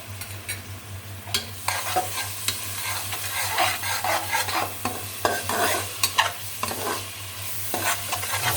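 A spoon stirs yogurt into a sizzling pot of korma, with fried onion paste in it. Scraping strokes come irregularly and close over a steady frying hiss, and there is no talk.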